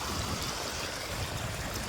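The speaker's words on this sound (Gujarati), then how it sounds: "મસ્ત મજાનું જો પાણી હાલે જોઈ લો તમે" Water flows along an irrigation channel in a farm field, a steady close rushing and gurgling that carries on alone without a break.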